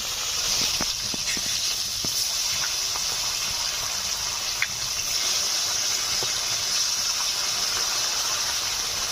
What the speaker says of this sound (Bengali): আলু ভেজে নিয়েছি, তুলে নিচ্ছি।